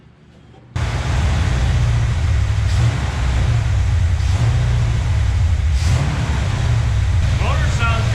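A swapped engine idles steadily in a 1965 Chevrolet Impala SS, a loud, constant low rumble that starts abruptly and holds for several seconds, with faint talk underneath.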